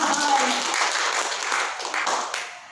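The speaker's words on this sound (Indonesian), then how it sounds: "Kasih tepuk tangan buat Tuhan" Congregational applause at a church service, a steady dense wash of many hands clapping together for the full stretch, fairly loud and even, with voices mixed in underneath before it tapers slightly at the end.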